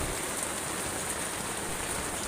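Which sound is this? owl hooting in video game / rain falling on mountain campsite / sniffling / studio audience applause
rain falling on mountain campsite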